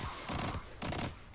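A pulse rifle in the video game Destiny 2 fires rapid bursts, with two or three clusters of shots close together at a moderate level.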